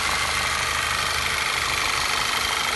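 VW Passat CC engine idling, a steady even rumble with constant noise close to the microphone, running smoothly without stumbles for the whole stretch, with no voices.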